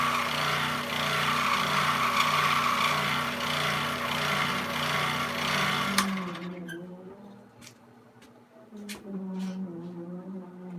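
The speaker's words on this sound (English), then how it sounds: "no, that's not an airplane. That's a vacuum." A vacuum cleaner's steady mechanical whirring drone runs loudly for several seconds, then cuts off, leaving quieter clicks and faint background sounds.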